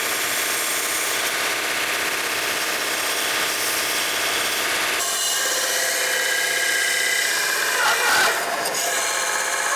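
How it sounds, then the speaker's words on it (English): An exhaust tip for a 1967 Barracuda custom exhaust is deburred, giving continuous close abrasive rubbing and grinding that shifts in tone about halfway and carries on steadily with no voices. "we're gonna tack weld that other tip on here. First we gotta go deburr it."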